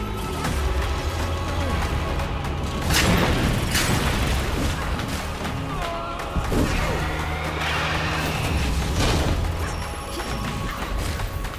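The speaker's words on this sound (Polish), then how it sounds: "Ale bomba wybuchła." A bomb explodes in the Flintlock: The Siege video game with a loud crashing boom, followed by further heavy impacts and rumbling debris over a dense game soundscape.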